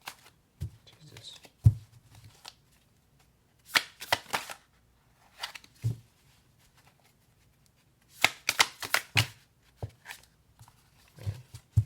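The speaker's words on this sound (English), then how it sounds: "when it comes to this shuffling method, they don't come out" Tarot cards shuffled by hand in a series of brisk riffling, sliding bursts with short pauses between them, close and fairly quiet, with soft low thumps as the deck is handled.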